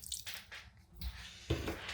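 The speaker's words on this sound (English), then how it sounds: "I'm just going to splash a little bit of water in here" Water splashed into a bowl of ground pork or venison sausage mixture gives a few wet, squishy drips and splats, close and quiet, without any talk.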